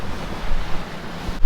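Loud rushing wind buffets the microphone over the churn and slosh of waves against a sailing catamaran, a continuous roaring wash with gusty swells.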